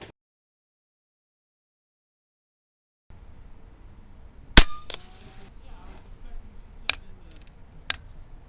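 An Epic TWO airgun fires at an outdoor range: one sharp, loud crack, then a couple of fainter snapping shots, over low background rumble and some quiet movement.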